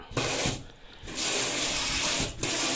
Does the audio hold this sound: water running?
yes